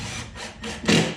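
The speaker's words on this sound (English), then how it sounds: "So now I have a screw. Just go through the pilot hole that you just drilled." Screw being driven through a pre-drilled pilot hole into wooden canvas stretcher bars, heard as several short close grinding, rasping bursts with brief pauses, the last two louder.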